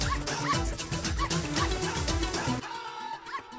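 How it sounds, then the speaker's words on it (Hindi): A dog barks repeatedly in a scene from a Hindi comedy film, loud, close barks over a busy background that cut off abruptly near the end. "अरे कोई बचाओ भैया, इस कुत्ते से बचाओ।"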